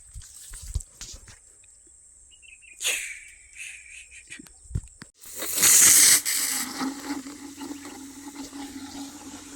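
A water pump starts up after a quiet stretch and water gushes out hard to irrigate a field of fenugreek. The flow is a loud, steady rushing hiss over a low motor hum that continues to the end.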